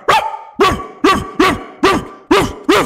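A person imitates a dog barking, giving seven loud, evenly spaced woofs in a steady rhythm with short gaps of silence between them, close and with no other sound.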